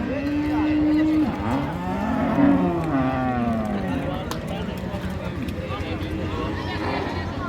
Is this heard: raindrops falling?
no